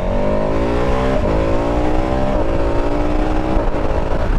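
A 2021 KTM 1290 Super Adventure S motorcycle engine revs hard and close, its pitch climbing in repeated surges between brief drops as it accelerates, loud and continuous with no talk.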